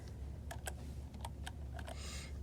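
Keys clack on a computer keyboard in irregular taps, about a dozen distinct strikes over a steady low hum, close and clear with no voices.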